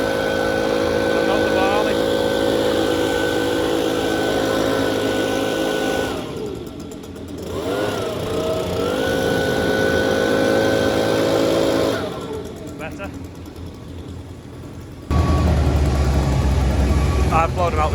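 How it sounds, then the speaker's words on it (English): A JCB engine runs steadily at close range while a front broom attachment sweeps leaves inside a farm shed, and the engine note drops and rises as the machine works. The engine roar grows louder near the end. "Andrew's got the broom on the front of the JCB, and he's going to brush them over to the pile"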